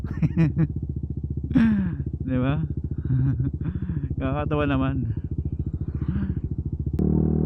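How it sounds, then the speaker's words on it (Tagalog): Many motorcycle engines idle at a gathering with a steady low rumble close by, while people talk over the noise. "Daming motor, oh."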